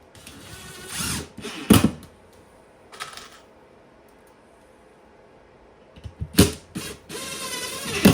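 Power drill driving screws into timber wall studs in a workshop, with several short bursts of whirring and ratcheting separated by quiet gaps, the last burst longer and close by.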